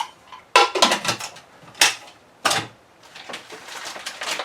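Metal cookware clanks and rattles in bursts as items are shifted around, with sharp clatters separated by quieter rustling.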